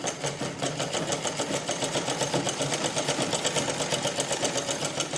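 A sewing machine stitches a petticoat with a cancan layer, its steady, rapid pulsing hum running loud and close without a break and with no talking.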